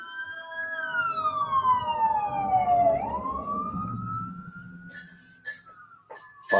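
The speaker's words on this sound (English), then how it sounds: "Fire truck just flying down the road" A fire truck siren wails on a road, sweeping down in pitch and then rising again as it passes, fairly loud at first and fading, with sharp horn bursts near the end.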